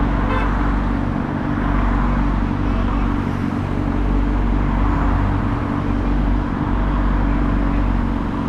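Road traffic in Houston heard from a motorcycle rider, with a deep steady rumble of engines and passing cars and short car horn toots sounding through the mix.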